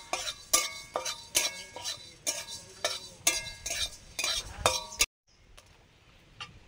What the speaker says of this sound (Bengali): গোটা মশলা ভেজে নিচ্ছি